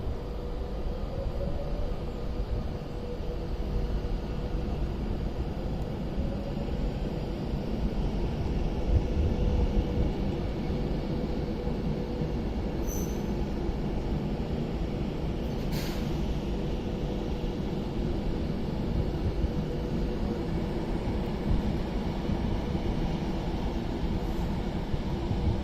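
An Avanti West Coast train pulls out of Crewe bound for London Euston, a steady low rumble with broad noise throughout, brief high hisses and squeals around the middle and near the end, and no voices.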